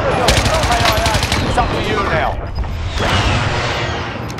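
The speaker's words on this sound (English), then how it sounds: "someone's shooting from inside." Gunfire in a shooter video game, rapid bursts of automatic fire with sharp reports, loud and continuous, briefly dipping before resuming, with voices talking over it.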